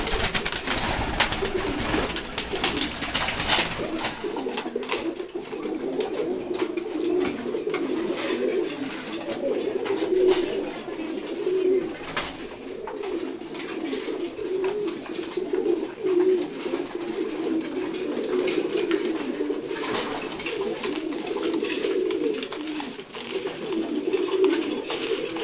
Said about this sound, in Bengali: আচ্ছা, গ্রিজেল কবুতর আছে এখানে।